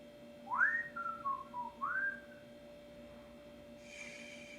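A whistled tune of a few rising and falling notes, fairly close and clear, followed by quiet with a faint hiss near the end.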